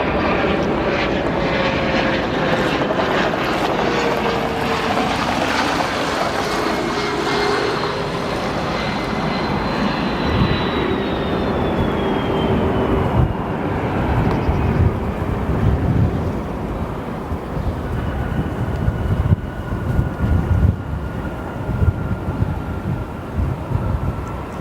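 An arriving passenger jet at O'Hare airport passes with a sustained roaring engine whine, a descending tonal pitch sliding down as it moves by, then settling into a rumbling, gusty drone near the microphone.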